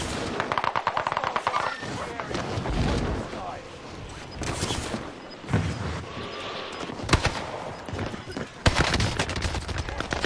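Video game gunfire in rapid automatic bursts and heavy volleys, loud and near, continuing almost throughout with talk mixed in.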